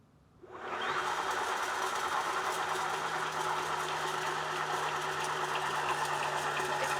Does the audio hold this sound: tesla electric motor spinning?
yes